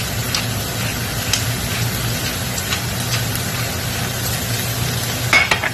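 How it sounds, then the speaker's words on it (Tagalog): Beef bechamel stirred in a pan, steady soft sizzling with spoon scrapes and clinks, close and continuous. "Haluin ulit para mamix yung lasa."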